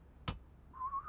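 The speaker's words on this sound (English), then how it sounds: "Principal Mondo's signature hall walking whistle?" A cartoon school principal's signature whistle for walking the halls: after a single sharp click, a clear sustained whistled note rises slightly in pitch and plays alone, close and fairly soft.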